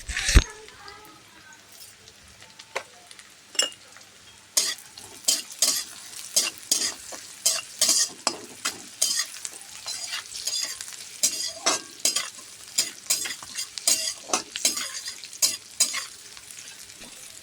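Onions sizzling in oil with salt and a little sugar for a mustard fish curry, constantly stirred so that rapid clinking and scraping of a spatula on the pan runs over a steady frying hiss.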